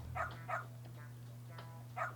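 Dog barking in the video game Lost Judgment, four short yapping barks spaced out, fairly faint over a low steady hum.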